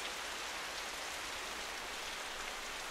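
Steady wind and rain in the game Companion, a dense, even hiss of falling rain that holds at a constant level throughout with no voices or breaks.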